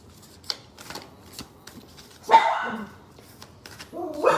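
Tarot cards shuffled in a short rustle at a reading, with a sharper riffle burst midway, alongside a dog barking and yipping in the room.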